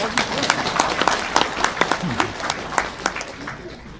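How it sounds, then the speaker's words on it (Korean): Scattered hand claps from an audience at a lecture on Korean reunification, uneven and moderately close, with a voice talking over them. "저쪽에 우리 어르신은 그 뜻을 알고 박수를 치시는구만"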